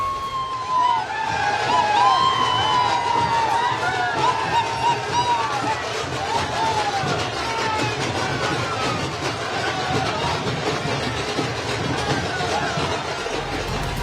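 Party workers celebrating a BJP election victory in Assam, a dense, noisy crowd of cheering voices with whistles or siren-like tones running continuously throughout.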